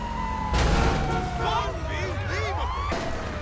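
Ambulance siren in the video game GTA 5, a wailing, sweeping tone that rises and falls over a steady rumble of traffic and engine noise, fairly loud and continuous throughout.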